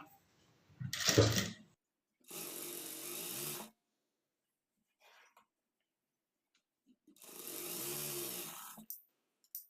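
A sewing machine stitches a half-inch seam on a high-neck blouse in two separate bursts of whirring, each lasting a second or two, with near silence and a faint knock between them.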